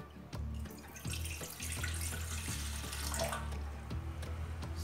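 Water pours steadily from a measuring cup into the pan of a Cadence bread machine, a continuous close splashing trickle with a few small clinks at the start.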